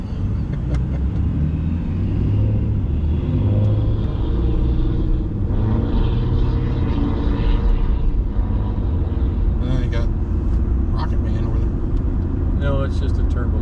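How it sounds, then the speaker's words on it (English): A turbo diesel 250 pickup truck drives and accelerates, a heavy continuous low rumble heard from inside the cab, with people talking over it. "It's just a turbo diesel."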